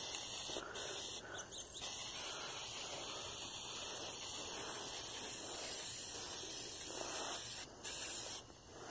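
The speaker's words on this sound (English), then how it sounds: "Crap, it's raining." Rain falls in a steady, close hiss that continues unbroken throughout, with no voices.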